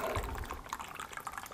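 Coconut water pours into a glass as it is filled, a steady close liquid gurgle and splash running the whole way through.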